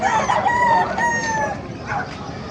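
A rooster at a chicken market in Bocaue crows loudly and close, one long drawn-out call followed by a shorter rising crow, with a faint busy market murmur beneath.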